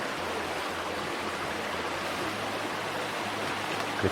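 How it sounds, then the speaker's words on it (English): Eagle Creek, a Smoky Mountains stream near a backcountry campsite, rushes steadily as broadband water noise, close and continuous with no talk, while a faint low hum runs underneath. "This is Eagle Creek."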